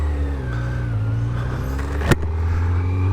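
A 2025 Kawasaki Z900 SE being ridden at Homestead Raceway, with a loud sustained engine drone whose pitch shifts as it changes speed, cut by a sharp momentary burst midway.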